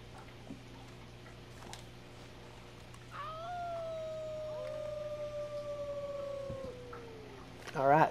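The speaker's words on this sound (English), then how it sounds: "Let's give them a howl." Wolf-like howling from Red Dead Redemption 2 Online: two long, smooth, slightly falling tones overlap for about four seconds over a steady game hum, followed by a short burst of wavering yips at the end.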